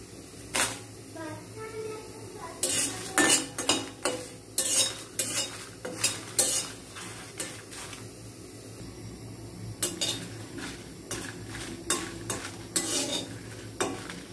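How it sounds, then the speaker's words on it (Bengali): Dried red chillies frying in a pan beside a vegetable khichuri, with repeated sharp clanks of a spatula against the pan over a faint, steady sizzle. "আমি এই সাইডে কয়েকটা শুকনো মরিচ ভেজে নিব"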